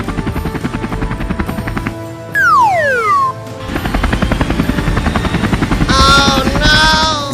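A cartoon helicopter flies with a fast, steady rotor chop, loud and close, broken midway by a falling whistle-like swoop and later by brief bright tonal effects.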